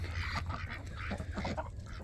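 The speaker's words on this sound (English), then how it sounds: "Ducks come running, chickens come running." A cluster of ducks quacking together in a busy, overlapping chatter, moderately close, over a low background rumble.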